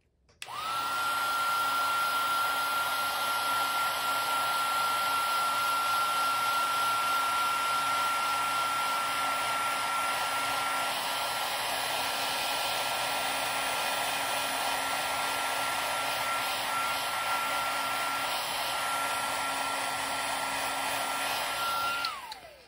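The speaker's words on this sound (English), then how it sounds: "And then one more time with the heat tool." Electric heat tool melting embossing powder on a craft card, a loud steady blower whine with a constant tone, starting and stopping cleanly and running alone for about twenty seconds.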